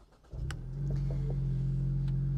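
Turbocharged 2.3-liter four-cylinder of a 2024 Ford Mustang EcoBoost starts up, a brief crank flaring into a steady, loud idle hum that holds close and even for a couple of seconds.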